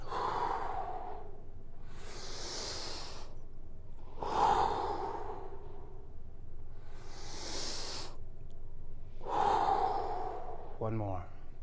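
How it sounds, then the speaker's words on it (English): Heavy, rhythmic breathing during a home workout, with five strong breaths at regular intervals, alternating nasal inhales and forceful mouth exhales, close and loud over a steady low background hum. "Use your breath, inhale through your nose up,"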